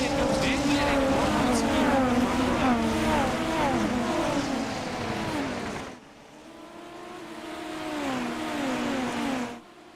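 Formula B race car engines rev hard at a race start in iRacing at Adelaide. Whining, pitch-swooping engine notes rise and fall loudly, then drop away and climb again as the cars pull off, with a commentator talking over them.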